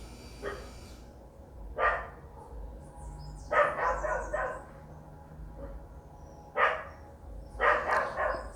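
A dog barks in separate short bursts, single yaps and quick clusters of three or four, at a moderate distance over a quiet low background hum.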